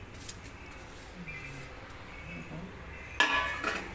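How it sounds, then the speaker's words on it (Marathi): Metal utensil clinks and scrapes against a cooking pot as jaggery is stirred for lapshi, quiet at first, with a louder clatter near the end. "आता हे आपल्याला व्यवस्थित हलवून घ्यायचं"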